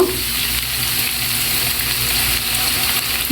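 Onion sizzles steadily in hot oil in a pan, a continuous close frying hiss with a soft clatter at the end as onion paste goes in.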